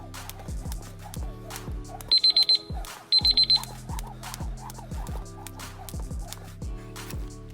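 Two short bursts of rapid high electronic beeping from a workout interval timer alarm, ringing over loud rhythmic electronic music with a thumping beat during a lower-body circuit training session.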